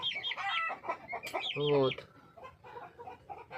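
Chickens cluck in a backyard flock that includes a dark Graphite-colored rooster, with a short burst of harmonic rooster calling in the middle, while a person talks casually over the birds.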